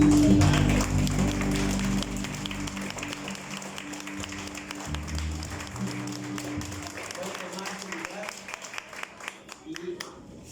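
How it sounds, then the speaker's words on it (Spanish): A church congregation claps and applauds over a low musical drone, the clapping growing sharper and more distinct as the music fades near the end. "dale un aplauso al Señor"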